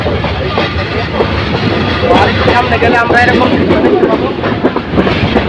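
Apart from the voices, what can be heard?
Parabot Express train running on rails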